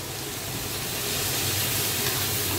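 Steady broadband hiss and bubbling close by, a pot of water at a hard boil over high heat, continuous with no voices.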